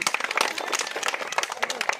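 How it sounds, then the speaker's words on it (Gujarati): An audience claps for a family at a charity event, a brief, close burst of irregular hand claps with a few louder individual slaps. "આપણે આ તબક્કે નટુભાઈના પરિવાર સેહુલભાઈ અંજનાબેન ડેલસી જીહાના માટે આપણે એકવાર જોરદાર તાળી પાડી લઈએ"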